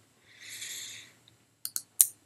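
Three sharp, isolated mouse clicks close to the mic during stair editing in Chief Architect software, the first two evenly spaced and the last one louder. They follow a soft breath-like hiss, and there is no talk.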